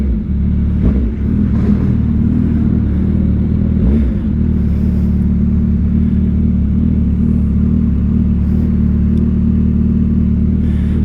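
A 2024 Suzuki Hayabusa 25th Anniversary motorcycle engine while riding, a loud, steady, deep rumble with slight surges throughout.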